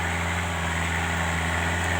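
A Kubota M5000 tractor engine runs at a steady idle, a low continuous droning hum with constant loudness and no talking.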